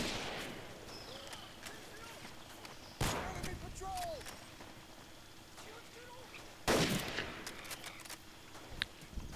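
Sniper rifle fire in the Medal of Honor Pacific Assault video game: two sharp, separated shots ring out over jungle ambience with chirping, and faint voices murmur underneath.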